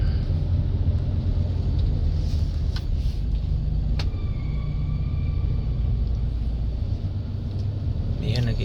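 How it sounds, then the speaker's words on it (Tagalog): Steady road rumble of a vehicle on a Quezon City street, continuous and fairly loud throughout, with a few faint higher tones and clicks above the low drone. "nag-iisa lang po yung sasakyan dito"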